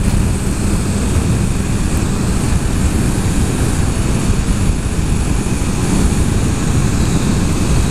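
A 2014 Honda CBR650F inline-four motorcycle engine drones steadily and loudly while riding, blended with heavy wind rush over a continuous, unbroken stretch with no talking.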